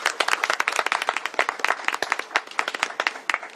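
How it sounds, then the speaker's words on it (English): A small crowd at a press conference with Governor Bob Ferguson claps, with distinct, close individual claps forming a sparse, uneven applause that holds steady throughout. "really the round of applause goes to you and your team and all the workers here"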